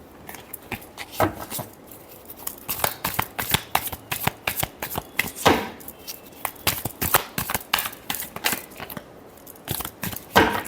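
Tarot cards are shuffled in quick, crisp riffles and slaps, a dense run of close, sharp papery clicks repeating for several seconds with no talking.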